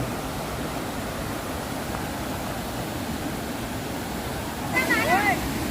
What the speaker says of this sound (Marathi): पाण्याचा आवाज इथे जास्त येतोय